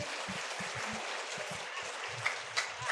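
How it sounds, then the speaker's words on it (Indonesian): An audience gives soft, faint applause, a steady wash of clapping with a few dull thumps beneath it. It lasts only a few seconds and is not loud. "Tepuk tangan dong."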